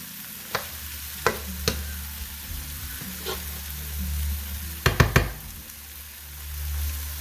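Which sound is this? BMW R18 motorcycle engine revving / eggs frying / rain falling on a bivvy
eggs frying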